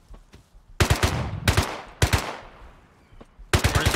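Automatic gunfire in the Rust video game sounds in four sharp, close bursts of rapid shots, each trailing off into a short echo, with brief quiet gaps between them.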